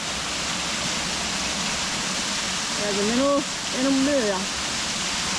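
A waterfall at a grotto in Raccoon Creek State Park gives a loud, steady rushing roar throughout, with a person's voice briefly heard over it.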